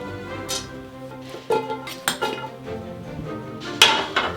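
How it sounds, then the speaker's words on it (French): Diced lardons of bacon dropped into a frying pan: a few scattered clanks and knocks of metal and utensil against the pan, short and close, with quiet gaps between and no voices. "Les lardons dans la poêle."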